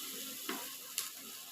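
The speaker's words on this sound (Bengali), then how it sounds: "শুকনা শুকনা করে মানে ভাজা ভাজা করলাম।" Spice paste for beef bharta frying nearly dry in a pan with little oil, a steady close sizzle with two sharp scraping stir clicks from the spatula.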